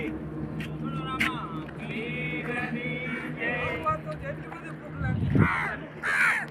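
A crow caws several times from a moderate distance over a low outdoor hum, with people talking nearby beside a parked vehicle near a river.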